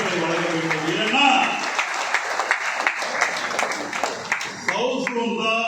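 Audience applause breaks out to welcome a guest at a life insurance agents federation gathering, a dense steady clatter of many hands throughout, with a voice speaking over it at the start.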